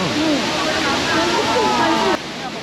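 A waterfall at Shifen, Taiwan, gives off a steady, broad rushing roar throughout, with people talking over it.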